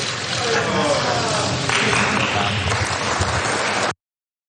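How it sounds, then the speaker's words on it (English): Republican lawmakers applauding in a legislative chamber during the counting of electoral ballots, a steady dense patter of many hands over roughly four seconds with a murmur of voices in the room. "So you see Republican lawmakers clapping for that moment"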